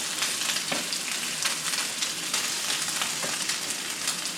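Guanciale renders its fat in a hot pan, giving a steady, dense, close sizzle and crackle with scattered sharper pops throughout.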